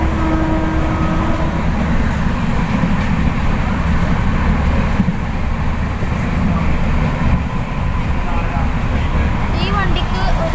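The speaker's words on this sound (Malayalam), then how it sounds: "ഇതൊരു സൂപ്പർ ഫാസ്റ്റ് റാങ്കിലെ വണ്ടിയാണ് കേട്ടോ" Superfast express train running on the Kerala line, a loud continuous rumble and rattle of wheels and carriages that holds steady throughout without a break.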